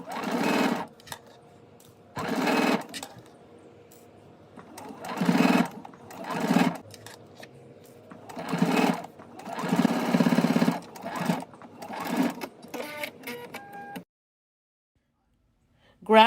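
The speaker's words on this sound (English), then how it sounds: "now I'm going to stitch in the ditch" A sewing machine stitches in the ditch along a fabric bodice in a string of short, close whirring bursts separated by pauses, with someone talking between some of the runs.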